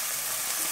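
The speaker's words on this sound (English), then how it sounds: "We got our meat ready to go on the pan. Man, don't you just love that sizzle?" Burger patties for a double cheeseburger sizzle in a hot pan, a brief, steady crackling hiss heard close up with no voices.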